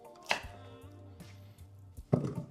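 A kitchen knife chops a vegetable on a board in three separate close, sharp cuts spaced about a second apart, with a faint background hum between them.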